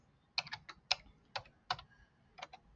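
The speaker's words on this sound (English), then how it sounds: "type it in" Several short bursts of keystrokes on a computer keyboard, close and fairly quiet, in an uneven rhythm with brief pauses between groups of taps.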